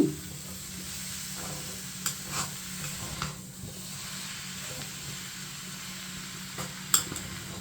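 Snake gourd is stirred in a frying pan with Bengal gram, giving a low sizzle under a steady hiss, with a few soft scrapes and clinks of a utensil against the pan.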